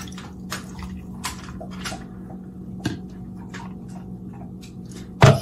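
Matcha is poured into a cup of boba and ice for bubble tea, producing soft trickles and scattered drips and splashes, ending in a sharper clink near the end, with no talking.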